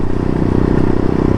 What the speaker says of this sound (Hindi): और काफ़ी टाइम बाद ये बाइक घर से निकल रही है।